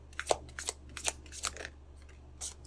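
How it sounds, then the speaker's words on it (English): Tarot cards are shuffled close up, a quiet run of soft riffling flicks and slaps in irregular bursts, with a short pause before a final flick and no talking. "Just feel the need for another shuffle."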